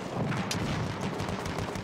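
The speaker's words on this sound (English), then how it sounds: "Because it's a 8mm Lebel full auto thing without a stock." Full-auto 8mm Lebel gun without a stock firing in Battlefield 1, with rapid sharp cracks in quick bursts over a constant rumbling din of battle, loud and close.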